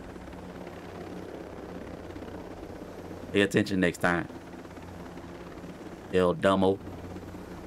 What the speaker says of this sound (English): now we get to use the helicopter to go far instead of 130 meters